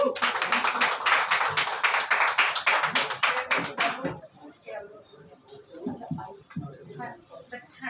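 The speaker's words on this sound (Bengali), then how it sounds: "তার আগে মানুষের একটু জোরে হাততালি হয়ে যায়।" An audience at a music launch celebration claps in a brisk burst of applause for about four seconds, then it fades and people talk over scattered light taps.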